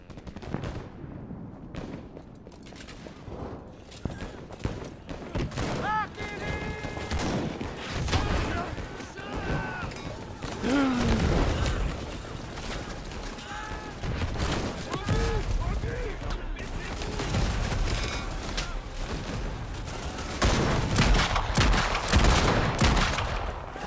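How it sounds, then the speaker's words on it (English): Rifle and machine-gun fire in the WWI video game Over The Top, dense sharp shots and rattling volleys throughout, loud and near with distant booms, while a person talks over the battle now and then. "There's a guy standing on the hill with a rifle just shooting everyone."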